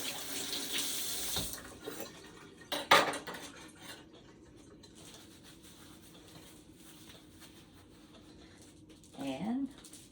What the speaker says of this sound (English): Now, rinse my hands off again.